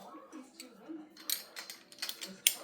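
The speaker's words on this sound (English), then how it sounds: "And so you just want to use your wrench." A wrench tightens screws on a metal Z rack, giving quiet, uneven ratcheting clicks and small metallic ticks close by, with a soft faint voice underneath.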